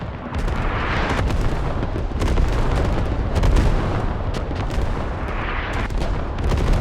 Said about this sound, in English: Artillery nonetheless does go down.